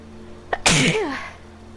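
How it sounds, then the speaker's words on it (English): A single sharp sneeze with a quick intake just before it, close and loud, trailing off into quiet. "Well, there's my sneezing."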